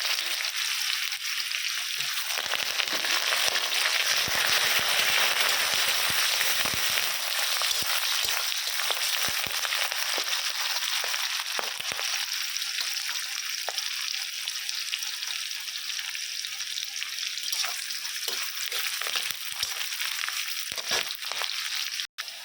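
Onions and curry leaves fry in hot oil in a home kitchen, a steady broad sizzle that crackles and spits nearby for over twenty seconds, easing slightly toward the end with no talking.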